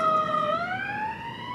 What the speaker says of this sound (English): So I'm letting the siren just go past there.